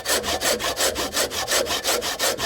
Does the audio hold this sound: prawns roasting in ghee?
no